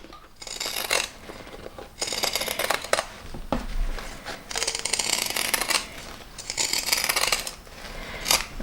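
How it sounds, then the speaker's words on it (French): Pinking shears snip through excess fabric around the curved edges of a small sewing project, giving repeated bursts of crisp, rasping cuts separated by short pauses, close and fairly quiet. "à l'aide de mes ciseaux cranteurs, je vais juste enlever l'excédent de tissu au niveau des arrondis ici"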